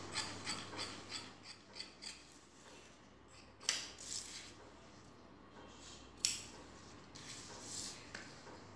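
Scissors cut fabric for a blouse waist belt, a close series of crisp snipping strokes in steady rhythm, with a couple of sharper louder snips midway, quiet and with no talking.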